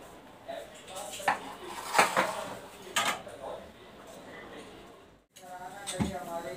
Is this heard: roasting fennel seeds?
yes